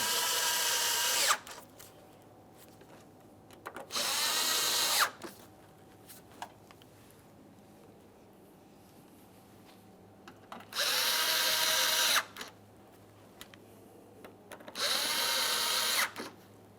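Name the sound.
power drill tightening Mazda 3 headlight mounting screws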